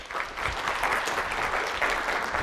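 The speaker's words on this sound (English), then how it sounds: "If you want to give him some applause." Audience applause at a boat building school event, a full burst of clapping from a gathered crowd, fairly loud and continuous with no talk over it.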